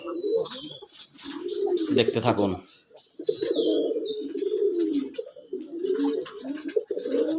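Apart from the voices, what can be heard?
male pigeon cooing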